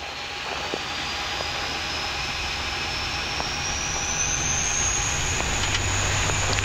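Olympic Air Q400 turboprop engines at takeoff power on an Athens-bound flight, a steady broadband roar with a high whine building slightly over the takeoff roll, heard from the cockpit.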